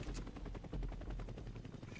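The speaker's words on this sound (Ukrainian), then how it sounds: "Чого він стріляє?" Rapid bursts of gunfire crackle in quick succession, fairly quiet and continuous, like automatic weapons firing in the video game X-Men Origins: Wolverine.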